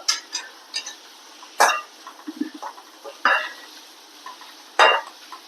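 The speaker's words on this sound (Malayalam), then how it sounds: "സവോള നന്നായിട്ട് നമ്മൾ വഴറ്റിയെടുക്കണം" Onions being sautéed in a pan for an elephant foot yam masala curry: a few separate scraping, stirring strokes against the pan over a faint, steady background, with no voices.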